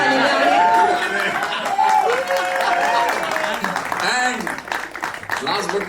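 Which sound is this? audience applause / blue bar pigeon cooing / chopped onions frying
audience applause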